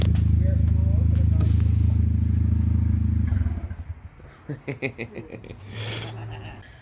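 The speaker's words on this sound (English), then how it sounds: "You can hear the turbo though." A 2017 Hyundai Elantra Sport with a 1.6 turbo engine and the muffler removed drones loudly, then the revs drop into a choppy, burbling idle with pulsing exhaust beats, while voices talk nearby.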